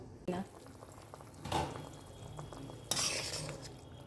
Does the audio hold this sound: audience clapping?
no